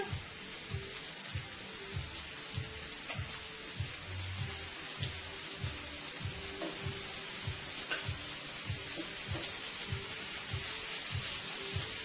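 Shrimp frying in a pan for a surf and turf dish, giving a dense, even sizzle and crackle that runs steadily throughout at moderate distance, with no talk.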